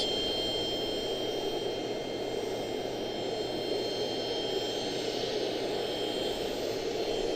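A jet airliner at Charlotte-Douglas International Airport makes a steady, loud, broad engine roar as it lands, holding constant with no voices over it.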